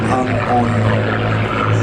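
A Gloster Gladiator propeller biplane flies past at an airshow, its piston engine droning steadily and loudly throughout, with a commentator's voice talking over it.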